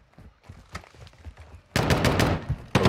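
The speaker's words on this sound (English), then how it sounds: "He threw a grenade decoy." Simulated gunfire from a decoy grenade in Modern Warfare 2, a sudden loud burst of rapid automatic-style shots after quieter game noise, then a short pause and another burst.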